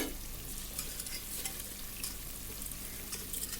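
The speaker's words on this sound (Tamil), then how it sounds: "இப்போ தண்ணி பாருங்கள் நல்லா கொதிக்குது" Water bubbles and hisses at a rolling boil in a pot for cooking ghee rice, a dense continuous simmering sound close by.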